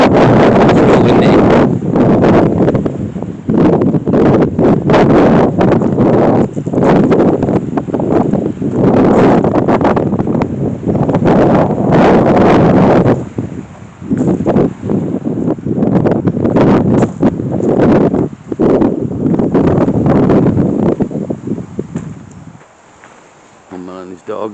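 Strong wind buffets the microphone at Aira Force waterfall in Cumbria's Lake District, with loud, ragged gusts roaring almost continuously and easing briefly midway before dropping off at the end.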